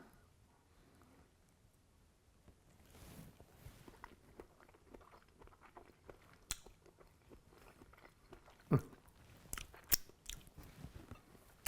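Beets are bitten and chewed up close: quiet at first, then a string of sharp, crisp crunches and wet chewing that grows louder and more frequent, with no talking.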